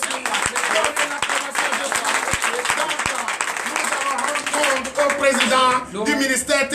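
Clapping from a congregation gathered for Sunday worship in Benin rolls on at close range with crisp, regular beats, under loud speech, before giving way to voices near the end.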